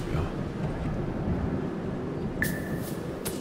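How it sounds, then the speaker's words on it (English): Wind rushes steadily and fairly loudly through an outdoor scene in the survival game Unveil, a broad continuous blowing with a brief thin tonal whistle late on. "That wind seems like it's really up there."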